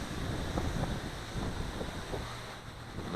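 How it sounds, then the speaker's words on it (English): A strong gust of high wind buffets the microphone outdoors during a Blade 200 QX quadcopter flight, giving a continuous roaring rumble that swells and eases slightly. "There's a pretty good gust."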